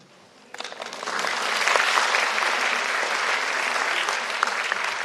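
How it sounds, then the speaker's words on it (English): At a Times of India event, applause starts abruptly after a quiet moment and swells into loud, steady clapping from a large audience that carries on to the end. "Give them a big round of applause."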